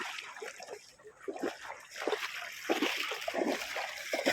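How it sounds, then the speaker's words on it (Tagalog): Sea water splashing and sloshing as a freshly caught mud crab is rinsed at the shore, a run of quiet, irregular splashes that grows somewhat busier toward the end, with no voices. "Banlaw muna tayo sa dagat."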